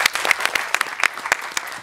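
An audience claps steadily at a Tamil film press event, a dense run of sharp handclaps close to the microphone with little talk over it.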